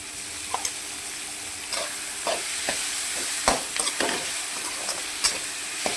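Ginger, garlic and green chilli paste sizzles steadily in a pan on the stove, with scattered scraping taps of a spoon stirring through it and no voices.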